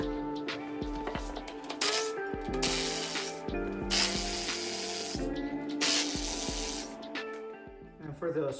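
Tight factory bolts being loosened on the wheel of a 72V Tuttio Soleil electric motorcycle, a loud, close ratcheting clatter in repeated bursts with brief pauses between turns.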